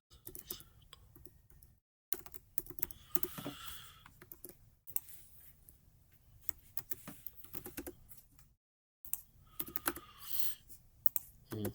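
Rapid clattering keystrokes on a computer keyboard come in close, busy bursts separated by two short silent gaps, with no voices.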